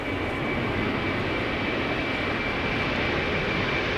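A Delta Air Lines jet airliner bound for Boston passes at Amsterdam Schiphol, a constant heavy engine roar with a steady high whine, loud and close throughout, without speech.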